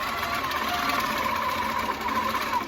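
Long arm quilting machine running while stitching a fabric table runner: a continuous, close mechanical hum with rapid rhythmic needle chatter, steady and fairly loud throughout with no voices.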